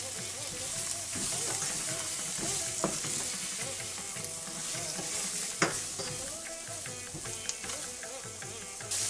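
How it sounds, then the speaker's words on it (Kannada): Masala spices frying in oil for aloo tikki, a constant close sizzle with rhythmic stirring and scraping in the pan, with a few sharp clinks along the way. "ಈ ರೀತಿ ಮಸಾಲೆ ಪದಾರ್ಥಗಳನ್ನು ಫ್ರೈ ಮಾಡಿಕೊಂಡು ಬಟಾಣಿ ಹಾಕಬೇಕು."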